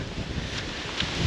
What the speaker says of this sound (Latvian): Vējš nenormāls.